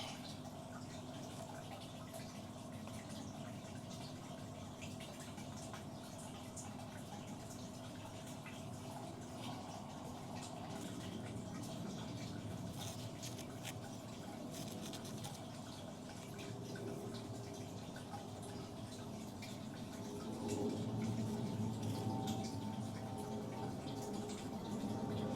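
Water poured gently over anthurium seedlings in a tray, a soft steady trickle and patter running close and continuous, growing slightly louder near the end, with no talk.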